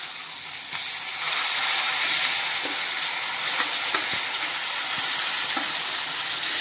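Mashed brinjal for vangyache bharit sizzling and frying in a pan while being stirred, a steady loud hiss of hot oil with faint scraping from the spoon throughout.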